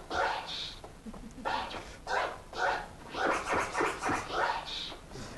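Hip-hop DJ scratching a 'fresh' vocal sample on turntables, a run of about a dozen quick back-and-forth scratch strokes in a steady, choppy rhythm, close and moderately loud with no talking over it.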